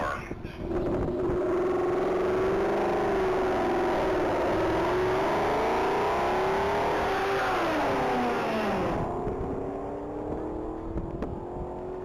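A black 2011 Ford Shelby GT500 accelerates hard on a top-speed racing track, a loud sustained engine roar rising and falling in pitch with shifts, wind noise over it, then easing toward the end.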